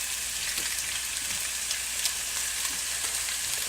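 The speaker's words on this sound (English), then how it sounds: "I add to the olive oil and start searing the beef and cooking that through" North Carolina local grass-fed beef searing in olive oil in a pan, a steady dense hiss and crackle of sizzling fat, close and continuous with no talk.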